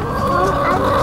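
Chickens cluck steadily at a farm pumpkin patch, a loud, close, continuous flock chatter with no talk.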